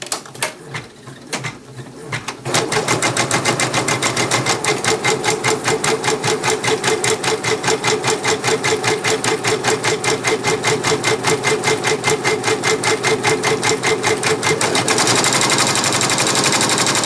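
An embroidery machine stitches steadily on a terry towel, a fast, even mechanical chatter that runs loud and close for most of the stretch after a brief quieter start.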